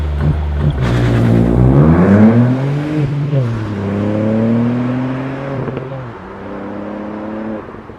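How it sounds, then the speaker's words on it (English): A 2018 Ford Fiesta ST pulls away hard under launch control, its engine note climbing steeply through the revs, dropping briefly at two quick gear changes and climbing again, loud and close. "I will say the launch control is pretty good fun."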